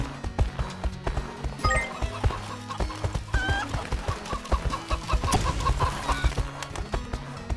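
Chickens cluck in a farm scene of the horse-riding video game My Horse & Me, with repeated short clucks and rooster calls over a horse's whinny and clip-clopping hooves and a looping game music bed.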